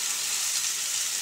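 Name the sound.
black cumin seeds sizzling as they temper in hot oil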